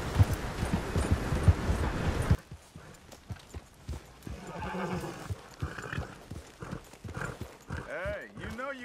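In the video game Red Dead Redemption 2, a horse's hooves clip-clop in a quick galloping rhythm while the horse neighs and whinnies, with wind noise and someone talking over it.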